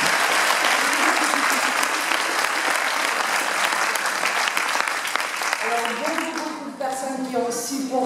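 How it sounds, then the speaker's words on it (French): Sustained audience applause at an inauguration ceremony for new premises, loud and dense throughout, with voices and a speaker rising over the clapping toward the end. "des applaudissements bien mérités"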